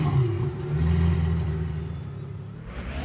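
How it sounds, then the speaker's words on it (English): Pagani V12 supercar engine in the Roblox game Jailbreak, a steady low rumbling drone that swells in the middle as the revs climb, heard alone without talk. "Man, that V12 engine sounds beautiful, bruh."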